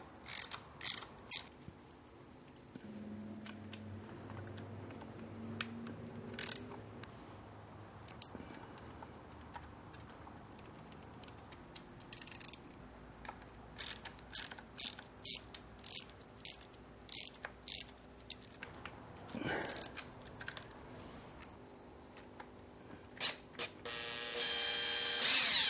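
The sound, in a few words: ratchet undoing PCV valve bolts on an Audi A4 B8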